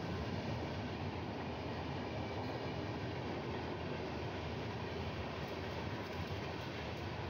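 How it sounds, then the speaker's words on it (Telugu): A Duronto Express with LHP coaches passes a halt platform at a crossing, its steady rolling rumble and wheel noise continuing evenly throughout, fairly distant and moderately quiet, with no voices. "డురంటో ఎక్స్ప్రెస్ ట్రైన్ అది."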